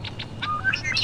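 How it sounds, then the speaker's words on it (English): Two or three small birds sing near a ship at sea at dawn, giving brief high chirps and tweets over a steady low rumble of wind and water. "At dawn, two or three small birds came to the ship singing and disappeared before sunrise."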